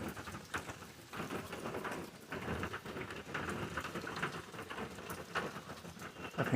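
A summer storm brings steady rain pattering on surfaces, a soft continuous hiss with scattered drop impacts that swells slightly in places, fairly faint and without any voices.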